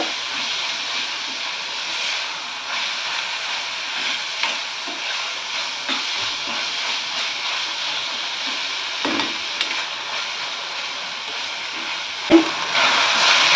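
Chopped onion and tomato sizzle steadily in a hot pan for a spicy potato curry, a continuous frying hiss with a few soft stirring scrapes and one sharp utensil tap near the end.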